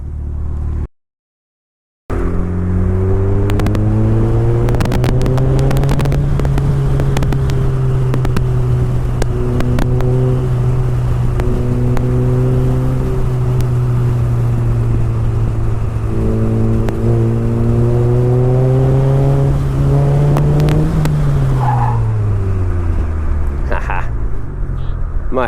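DF Goblin go-kart driven on a road, its small engine droning steadily close by with rising and falling pitch as it accelerates and eases off, after a brief gap near the start.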